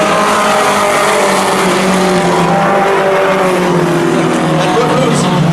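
Two race cars dueling for the lead in a Maine motorsports event, engines roaring loud and continuous at close range, a dense sustained howl with slowly shifting pitch throughout.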